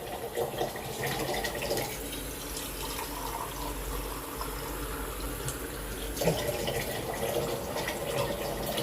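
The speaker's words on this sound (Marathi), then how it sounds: "झाडाला पाणी घालूया" Water is poured onto potted plants under a shed while heavy rain falls outside, a close, steady gushing splash lasting several seconds, with a brief surge near the end and no speech.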